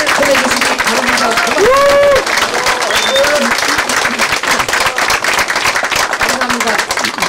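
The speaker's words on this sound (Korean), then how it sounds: "멋지고 지혜로운 말씀 주신 박주선 의장님께 더 큰 박수와 환호를 보내주시기 바랍니다." Audience applause and cheering at a Korean political party's second-anniversary ceremony, a loud sustained crowd clapping with whoops, while a voice speaks over it near the start.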